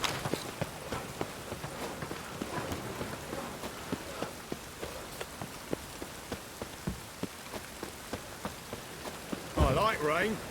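Steady rain patters on the ground in The Witcher 3, with soft hoof-like clip-clops ticking regularly beneath it and a brief louder burst near the end.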